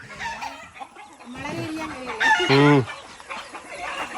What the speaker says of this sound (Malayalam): അപ്പൊ ഇവിടെ കോഴികൾ ഇങ്ങനെ വട്ടത്തിൽ ചുറ്റി പറഞ്ഞൊക്കെ നടക്കുന്നുണ്ട്.